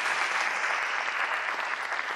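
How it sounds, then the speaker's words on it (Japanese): Audience applause following a lecture on hot-spring bathing for athlete recovery at a Beppu onsen academy event in 2018: a steady, dense clapping from a full room that holds at an even level throughout, with no voices over it. "今日のゲスト大竹選手、そして上院長に大きな拍手をお願いいたします。"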